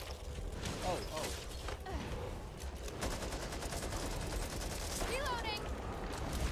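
Video-game gunfire crackles in a 4-on-4 match, rapid shots and weapon mechanism sounds layered with game effects, fairly faint under the mix.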